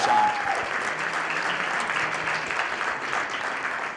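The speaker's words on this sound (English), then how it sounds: "a separate round of applause is from a former teacher for Sean Brennan" An audience at an Ohio Senate District 24 Republican primary debate gives a steady round of applause, dense clapping holding at an even level throughout with no talk over it.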